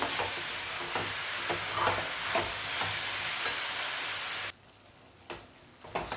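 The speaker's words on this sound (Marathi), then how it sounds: "एक दोन मिनिट मी याला हलवून घेणार आहे" Vegetables for veg pulao frying in a pan while being stirred, a dense bubbling sizzle with soft scraping strokes that drops away abruptly partway through, leaving quiet with a few faint knocks.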